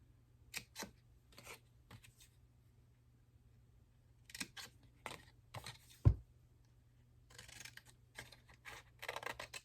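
Scissors cutting fabric for a t-shirt pocket at a quiet craft table, with several short, crisp snips in separate bursts and a soft thump partway through.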